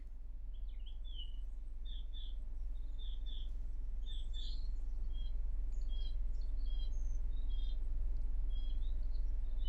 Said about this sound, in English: Is that the birds I'm hearing from the video?